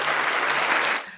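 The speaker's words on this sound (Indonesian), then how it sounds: "Berikan tepuk tangan Tuhan." Congregation at a church service applauding, a short dense burst of clapping from many hands that fades out after about a second.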